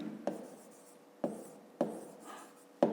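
Handwriting on paper during a fifth-grade maths exercise, a few short close scratchy pen strokes separated by brief pauses.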